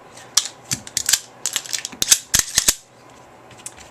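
A Taurus Spectrum .380 pistol is chambered and handled, giving a quick run of sharp metallic clicks and slide snaps, close and fairly loud, with no talking.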